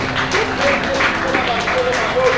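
A church congregation applauding the Lord during a French-language sermon, a dense, steady wash of clapping with voices mixed in throughout.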